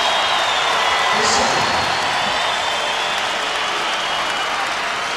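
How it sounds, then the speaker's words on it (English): Broad, steady roar of a basketball arena crowd cheering at a Vancouver Grizzlies home game, loud and continuous with a commentator's voice partly audible underneath. "Steve found a way to get the crowd to cheer him."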